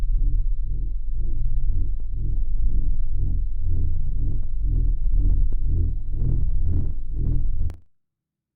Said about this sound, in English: I love the distortion and this like fake buffering that it's doing.